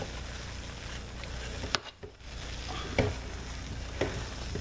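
Peppermint and sea salt homemade soap cooking in a crock pot, giving a soft continuous bubbling and sizzling with a few sharp pops and scrapes, fairly quiet.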